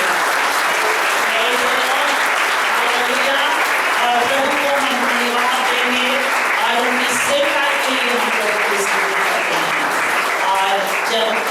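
Sustained, dense clapping from a crowd continues throughout, loud and even, with voices singing or calling out over it.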